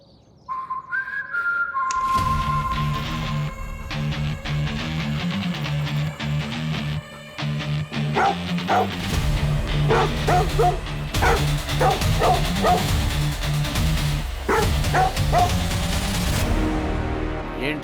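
A dog barks repeatedly in a crime drama scene. The loud, sharp barks and yips start after a brief whistle-like tone and continue in irregular bursts over a busy background.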